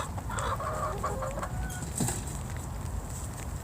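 Farmyard chickens cluck repeatedly in hot weather before rain, with short irregular calls at moderate distance over a steady outdoor background.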